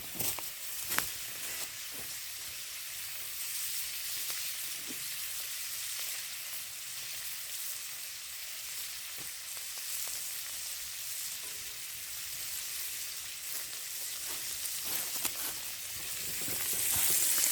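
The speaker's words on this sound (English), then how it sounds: "There's your sizzle." Wild boar meat sizzles steadily while frying in a pan in a back garden, a loud, continuous crackling hiss with occasional sharper pops, building slightly toward the end.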